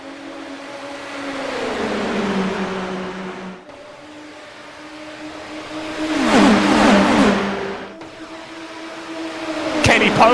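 Indy NXT open-wheel race cars pulling away together at the green flag start of the Freedom 100 oval race, a loud pack of engines rising and falling in pitch as cars pass close by, with no talking over it.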